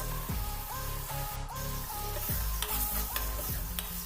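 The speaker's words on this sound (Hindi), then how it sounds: "अब इसमें 2 चम्मच ऑयल ऐड करेंगे, ये जितना आपको मुनासिब लगे उतना ही, और अच्छे से इसकी भुनाई करेंगे।" Masala roasting in about two spoons of oil in a pan for aloo matar, a continuous close sizzle broken by repeated scraping strokes of a spoon at a steady rhythm, with no voices.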